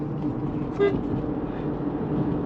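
A local vehicle goes by on a road, giving one short horn toot partway through over a steady rumble of traffic.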